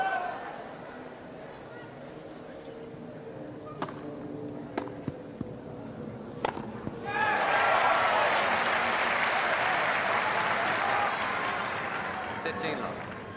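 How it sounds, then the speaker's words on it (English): At a 1995 Wimbledon second-round tennis match between Korda and Chang, a crowd breaks into loud, sustained applause midway through as Korda serves for the match, after scattered claps and murmuring, then slowly fades. "the crowd showing their appreciation as Korda serves for the match"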